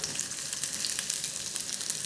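Sliced onion sizzles and crackles in hot oil nearby, a dense, even frying hiss with scattered popping throughout.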